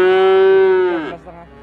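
A young calf at the Glenmor cattle market lets out one long, loud, close moo that slides downward and trails off.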